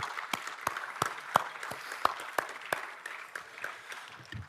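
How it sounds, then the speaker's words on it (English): A small scattered round of applause at a convocation convention, individual claps distinct and uneven, fading out after a few seconds with no talking. "Give another round of applause for Brother Jeff over here."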